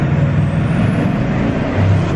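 A Bugatti Chiron accelerating from about 40 km/h produces a steady, loud rumble of engine and road noise heard from inside the car, with no talking.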